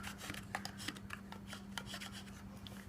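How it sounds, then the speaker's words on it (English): A bone folder rubs firmly over glued paper on a mini purse craft project, quiet repeated scratchy strokes in an uneven rhythm over a low steady hum, close and without speech. "I'm going to take my bone folder and give all of this a really good rub in here."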